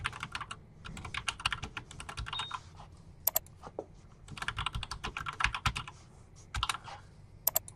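Fingers type on a computer keyboard in quick uneven bursts of close, crisp key clicks, with short pauses between runs and no speech.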